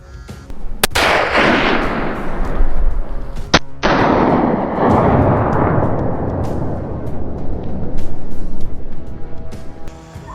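A rifle fired at a wild boar during a hunt: a sharp, loud report followed by a long rolling echo, then a second crack that trails off in a sustained, fading rumble.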